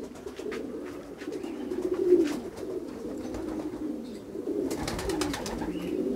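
Racing pigeons cooing at a loft in Tan-Tan, a near and continuous layer of soft, rolling coos that swell and fade, with no talk.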